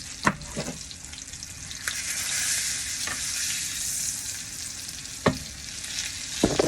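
Salmon sears in a hot pan with a steady, bright sizzle that runs throughout, broken by a few sharp knocks and clatters nearby.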